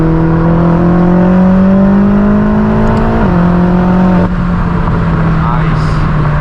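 A BMW M8 Competition F92 with a front-mounted intake, heard from inside as the engine pulls hard with a steady rising drone and turbo whir, loud and continuous under occasional talk.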